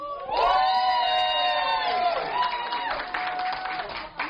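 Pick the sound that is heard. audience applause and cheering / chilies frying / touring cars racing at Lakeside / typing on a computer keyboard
audience applause and cheering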